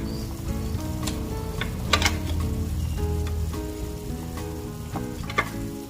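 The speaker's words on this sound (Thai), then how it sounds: "เราก็จะใส่เครื่องแกงลงไปนะคะ" Thai curry paste sizzles and fries in a pot for a pork curry, making a continuous crackling hiss broken by a few sharp clinks and scrapes of a utensil against the pot.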